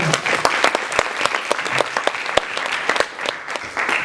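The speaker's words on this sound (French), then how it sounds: "Je peux l'applaudir." An audience at a university event applauds a municipal candidate with brisk, sustained clapping, with sharp individual claps popping out of the crowd's steady patter.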